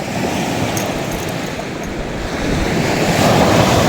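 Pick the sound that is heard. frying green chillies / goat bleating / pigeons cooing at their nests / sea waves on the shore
sea waves on the shore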